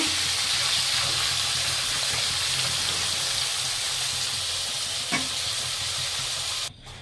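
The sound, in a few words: potatoes frying in hot oil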